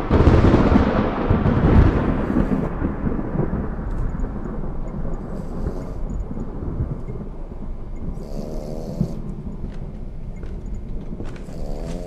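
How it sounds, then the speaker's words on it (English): Thunder in a supernatural-themed video game opens with a loud, deep rolling crash and then rumbles on at a lower level for several seconds, mixed with a steady hiss like rain. "I love me some thunder."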